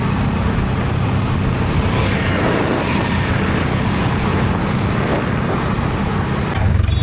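Heavy Mumbai road traffic at one in the morning, a dense, unbroken engine and tyre roar from passing vehicles, loud and close throughout with no clear gaps.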